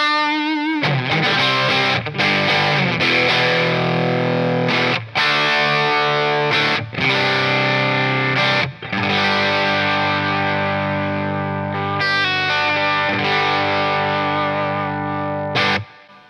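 An electric guitar on the bridge pickup played with high gain through a Quilter Toneblock 202 amp, loud distorted sustained chords and riffs with brief gaps between phrases.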